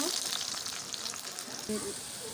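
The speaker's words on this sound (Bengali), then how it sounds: "হলুদ দিয়ে পেঁপেটা আগে ভেজে নিচ্ছি" Papaya pieces with turmeric fry in hot oil in a wok, a steady close sizzle with a faint clink near the end and no clear talking.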